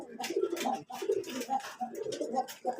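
A young racing pigeon, a fancier's racer chick, coos in a close, clear series of throaty warbling calls with short pauses between phrases.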